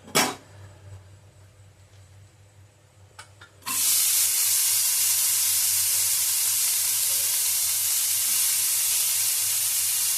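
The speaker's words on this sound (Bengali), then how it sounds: "গাজরটা আমার অল্প ভাজা ভাজা হয়ে যাওয়ার পরে" Carrot pieces dropped into a hot pan for mixed fried rice: a few seconds of near quiet with faint clicks, then a sudden loud, steady hiss of frying that carries on to the end.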